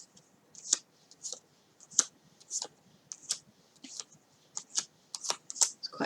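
A mini pocket-size Sacred Fractals tarot deck being shuffled: a series of crisp, quick riffling card bursts in irregular rhythm, close and fairly quiet against a silent background.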